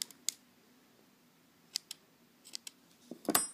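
Scissors snip through yarn during a crochet bunny project: a handful of quiet, sharp cuts spaced apart, ending in a quicker, louder cluster of snips.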